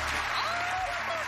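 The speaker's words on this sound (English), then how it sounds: "They're cheering a little harder now" A studio audience on the Deal or No Deal game show cheers and claps in a brief, dense burst, with a voice speaking over the applause.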